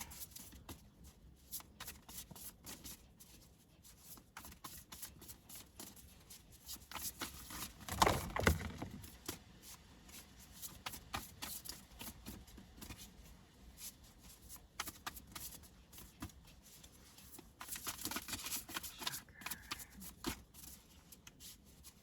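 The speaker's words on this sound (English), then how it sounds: "I can actually sit here and shuffle and shuffle and shuffle and shuffle" Steady riffling and flicking of cards being shuffled over and over, close by, with a denser burst of shuffling partway through and no talking.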